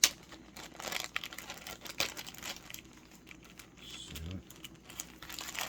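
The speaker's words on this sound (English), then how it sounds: "Get all the air out and fold it back up like I had it." A Sun-Maid golden raisins bag crinkles and rustles close up as air is pressed out and it is folded shut, in irregular crackly bursts with a few soft thumps.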